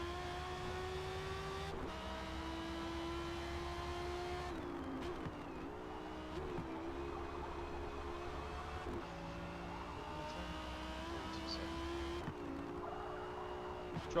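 A race car in a racing video game runs fast down the straights, a steady engine whine climbing in pitch through gear changes with brief drops between shifts, fairly faint and without talk.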